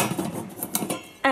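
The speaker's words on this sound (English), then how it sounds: "the lids from the new pans fit the old pans" Metal pan lids clatter and clink against pans in a kitchen, a quick run of close, bright knocks with one sharper ringing clang at the end.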